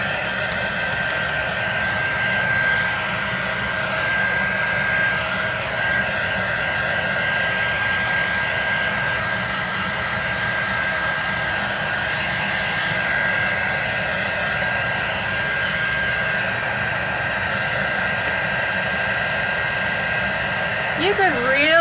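A hair dryer or heat tool blows steadily over shaped tape and paper in a craft setup, a loud continuous whoosh holding nearly unchanged for the whole stretch with no clear talk over it.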